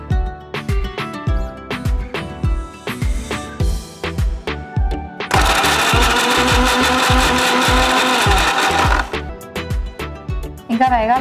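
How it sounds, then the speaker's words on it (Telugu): Mixer grinder grinding jaggery in a kitchen: a loud, steady whirring roar runs for several seconds, framed by a rapid run of rhythmic thumping pulses before and after it. "బెల్లం గ్రైండ్ చేసేసేయండి"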